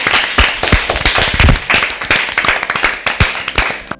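Dense, steady applause from a studio audience of children at a televised Easter Bible quiz show, loud and close with sharp overlapping claps running throughout, no talk over it.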